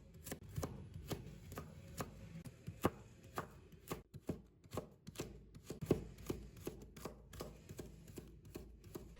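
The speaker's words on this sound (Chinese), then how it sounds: "再把它切成丝。" A kitchen knife chops a thin cooked egg sheet into strips on a cutting board, a steady run of sharp, close taps repeating quickly in an uneven rhythm with no talking.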